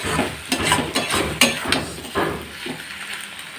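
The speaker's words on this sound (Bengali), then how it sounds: "এরপর আবার একটু ভালো করে নাড়াচাড়া করছি।" Chilli chicken with cornflour slurry is stirred in a pan, giving repeated scraping, clattering strokes in an uneven rhythm over a low background sizzle, close by and without speech.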